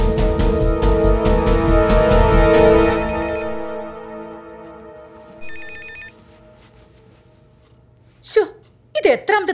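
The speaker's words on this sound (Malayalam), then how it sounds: "മനുഷ്യനെ മെനക്കെടുത്താൻ ബെല്ലടിക്കും നിൽക്കും" A telephone rings in a Malayalam romantic film scene: two bursts of electronic ringing, the second after a short pause, mid-loud over music that fades out, with people briefly talking near the end.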